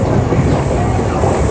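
A train on the single-track line from Jalandhar to Hoshiarpur rumbles loudly and steadily while rounding a curve, heard from on board as a dense continuous roar of wheels on rail.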